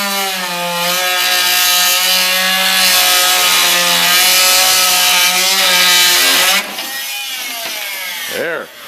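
Power tool whining while fasteners are worked out of wooden transom boards on a 1946 Gar Wood Ensign boat, a loud close sustained tone that drops in pitch near the end, with a voice heard over it.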